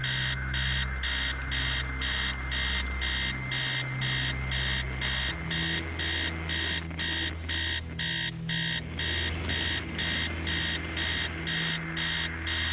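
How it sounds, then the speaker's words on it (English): Alarm ringing in the horror game Stories Untold, a loud relentless rapid pulsing electronic beep that repeats steadily over a low droning game soundtrack. "You can't see any alarm, but you can barely think with that noise."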